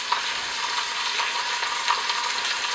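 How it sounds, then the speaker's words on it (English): Beef searing in a hot pan for barbacoa tacos, a steady, close crackling sizzle with small pops throughout. "we're going to sear it until it's brown"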